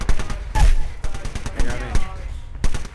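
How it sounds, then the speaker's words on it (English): Gunfire in Apex Legends during a squad firefight: repeated sharp bursts and shots rise and fall through a busy mix, with a voice talking over the shooting. "They spotted me. I'm taking shots."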